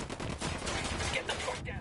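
Rapid bursts of rifle gunfire from a Ghost Recon sniper fight crackle loudly and densely through the whole moment, the shots close and overlapping with a faint voice underneath.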